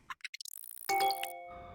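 In the video game Big Ambitions, a quick run of soft ticking clicks leads into a bright electronic notification chime that rings with sustained tones before fading under faint rain-like background noise.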